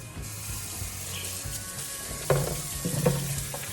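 Harvested sunflower seeds are rinsed with water in a colander, a continuous running-water hiss that turns into a few clattering splashes and knocks partway through, with no voices.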